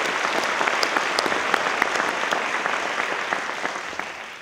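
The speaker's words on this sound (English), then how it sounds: "please join me in a round of applause for that great piece of work." Steady applause rises from the audience at a diversity, equity and inclusion conference, dense clapping that holds strong for several seconds and then fades a little toward the end.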